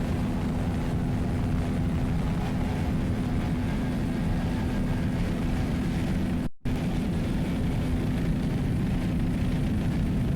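Super Cat Light Outboard racing powerboats roar off Key West in calm water, a continuous loud engine drone that holds steady, broken only by a very brief dropout midway.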